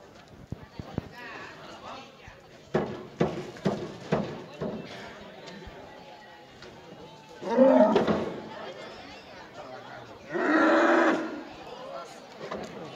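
A cow at a village festival in Villarrodrigo, Jaén, moos twice, two long, loud, throaty calls a few seconds apart, following scattered knocks and shuffling noises.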